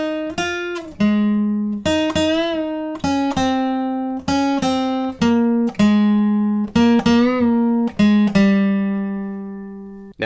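Guitar plays the lead riff of a song as single notes with bends up and down, clear and close, with a long ringing note at the end.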